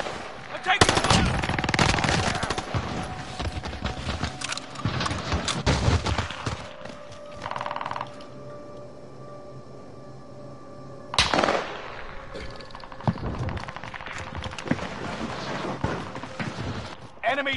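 Bursts of rapid gunfire in a PS4 military shooter clatter in several loud volleys, with a sustained mid-clip hum and gaps between salvos; a voice talks intermittently underneath.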